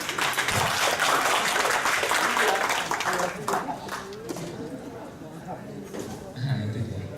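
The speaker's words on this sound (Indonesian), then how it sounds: "Tepuk tangan luar biasa." Audience at an Indonesian religious lecture breaking into applause, a dense burst of clapping that fades after a few seconds as the speaker resumes talking, with another short clap near the end.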